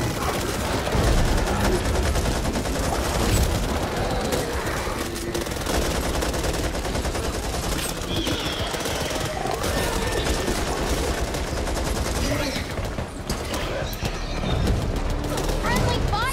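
Rapid gunfire in the Back 4 Blood shooter game, with dense bursts of shots and impacts that go on almost without pause over a busy game soundscape while a player talks at intervals.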